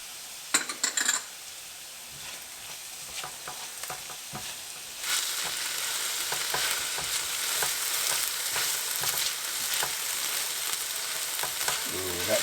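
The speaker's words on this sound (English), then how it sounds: "All right, the onions are nice and transparent now. And I'll add the ginger garlic paste." Ginger garlic paste sizzles hard as it hits onions already frying in a pan for homemade palak paneer, a loud steady hiss after a few sharp clinks, with scraping stirs ticking through the sizzle.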